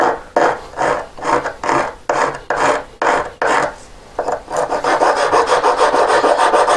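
Steady back-and-forth strokes of a hand file sharpening a prototype collet to a point, each rasping pass loud and close, speeding into quicker continuous strokes near the end.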